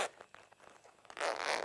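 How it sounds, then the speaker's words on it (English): A locking zip on a boat's clear waterproof window panel pulled open slowly, a faint ratcheting run of small clicks followed by a louder, brighter rasping pull, close and quiet. "unlock the zip slider, and just pull gently on that"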